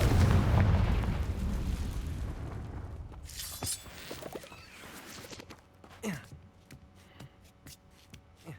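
A Confringo fire spell in Hogwarts Legacy goes off with a loud, booming explosion that rumbles and slowly fades over several seconds. Scattered crackles and debris-like clatters follow, growing fainter.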